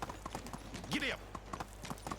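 Horse hooves clip-clop at a riding pace in the medieval village game Medieval Dynasty, a steady rhythmic patter of soft thuds with a brief whistling game tone partway through, playing under a quiet ambient backdrop.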